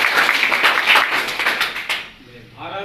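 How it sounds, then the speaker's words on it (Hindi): An audience claps loudly at a career guidance event in a dense, even burst of applause that stops sharply after about two seconds, followed by a brief spoken voice. "एक बार जोरदार तालियां"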